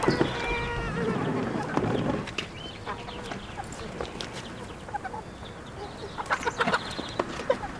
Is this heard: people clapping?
no